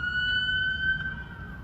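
An ambulance siren wails steadily at a moderate distance, a sustained tone over low traffic rumble.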